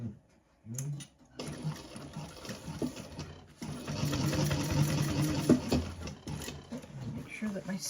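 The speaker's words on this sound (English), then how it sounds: "And we're top stitching." A sewing machine runs through a top-stitching seam, its motor whirring in bursts with short pauses, fairly close and steady, while a person talks over parts of it.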